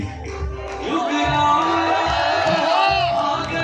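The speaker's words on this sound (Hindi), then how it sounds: "जोरदार तालियां की।" Loud crowd cheering and whooping at an open-air Ram devotional event in Moradabad with drones and lamps, a continuous roaring wash of voices with shouts rising over it, mixed with music and singing.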